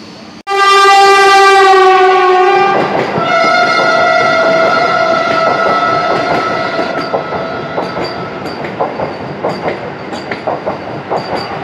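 A local train on the Howrah–Digha line pulls out of the station with a long, loud horn blast, then rolls on with steady rumbling and rhythmic clickety-clack of wheels over the rails.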